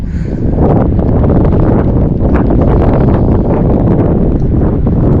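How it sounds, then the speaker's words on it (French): Strong wind buffets the microphone outdoors on a lake during a bass and pike fishing outing, a loud continuous roaring rush throughout with no speech. "quand il y a du vent comme ça"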